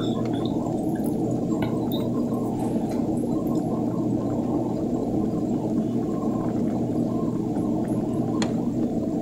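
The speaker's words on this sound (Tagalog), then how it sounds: "Pakuloy lang natin ang mga 1 hanggang 2 minuto mga idol." Pork tinola soup with sayote boiling in a pot, a steady close bubbling and gurgling that keeps going without a break.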